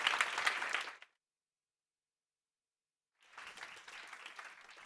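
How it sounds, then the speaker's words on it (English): Audience applause after a conference talk on ocean CO2 removal, a loud burst of clapping that cuts off into silence, then a second, softer round of clapping rises and continues. "One more round of applause for Nicola."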